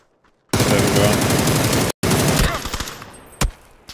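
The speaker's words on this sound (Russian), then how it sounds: "Он мне издалека стреляет" A distant enemy in a first-person shooter sprays sustained automatic fire in a dense, loud burst. It cuts out briefly, resumes and then trails off into scattered shots, ending with one sharp report.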